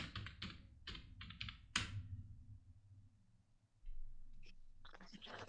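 Someone types the word nature on a computer keyboard with several quick, close key clicks, then pauses. A softer burst of keystrokes follows near the end.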